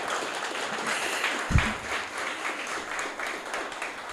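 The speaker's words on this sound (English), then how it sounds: "I would love if you guys can join me in giving him a rousing round of applause." Audience at the Golden Legacy Gala honoring student athletes from St. Andrew giving a rousing round of applause, a steady wash of many hands clapping throughout, with one louder thump partway through.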